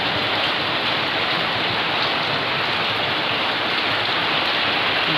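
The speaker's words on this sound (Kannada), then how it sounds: "ಮಳೆ ಬರ್ತಾ ಉಂಟು ಎಷ್ಟು ಜೋರಾಗಿ" Heavy rain pours down in a dense, steady rushing wash with no breaks, loud and close throughout.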